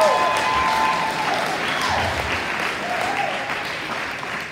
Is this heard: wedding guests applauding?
yes